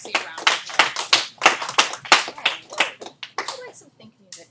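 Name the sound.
class applauding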